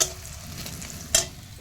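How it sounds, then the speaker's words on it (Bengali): Onions sizzling as they fry in a pan for an egg curry, a steady soft hiss with a couple of louder clatters of stirring, close by and without talk. "তো এই যে পেঁয়াজটা ভাজা করতে দিয়েছি"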